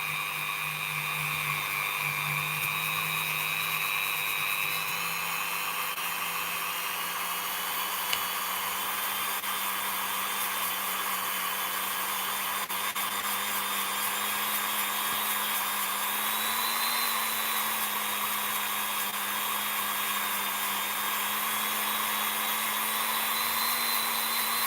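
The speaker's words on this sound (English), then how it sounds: "we'll get started quickly with the Dremel. I've just got a buffer plate on here, and we're just going to quickly run it." A Dremel rotary tool fitted with a buffer plate runs steadily on a gun barrel being polished, a continuous high-pitched whine with a slight pitch shift partway through, close and loud with no talking.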